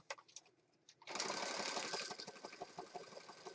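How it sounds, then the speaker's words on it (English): A sewing machine stitching around the edge of a junk journal page starts up after a quiet second and runs in a steady rapid whir, close by, with no talking. "I think I'll go ahead and stitch down this side."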